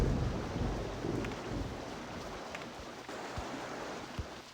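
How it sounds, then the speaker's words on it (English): Rain and thunder in the RollerCoaster Tycoon video game form a steady hiss of rainfall with a low rumbling swell early on, then a few scattered soft thuds, all fairly quiet and with no voices. "Apologize for the rain, it's making it a little darker and harder to see."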